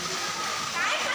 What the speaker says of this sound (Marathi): शॉवर आहे इथे पाण्याचा